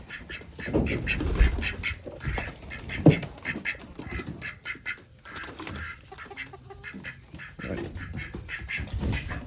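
Ducks quack repeatedly amid clucking chickens in a busy farmyard, a steady jumble of fowl calls throughout.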